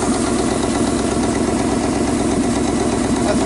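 Turbocharged LS V8 idling under Speeduino engine management with 25 degrees of idle advance, a steady, even, moderately loud rumble with a regular pulsing lope and no talk.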